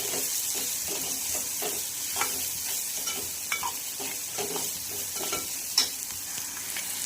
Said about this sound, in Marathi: आणि छान याला असं मिक्स आणि फ्राय करून घ्यायचं आहे